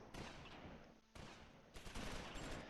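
Sustained heavy machine gun fire in the WWII game Close Combat IV, a continuous rattling stream of rounds broken by a short pause, fairly quiet overall with no talk.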